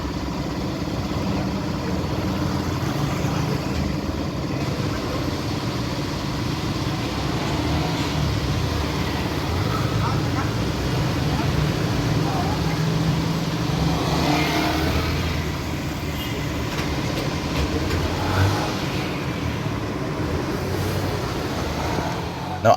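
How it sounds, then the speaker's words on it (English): A Yamaha WR155R 155cc enduro motorcycle engine revs steadily and close by for the whole stretch, with a constant mid-pitched drone and a few slight rises in pitch. "I can already tell that this engine loves to rev a lot"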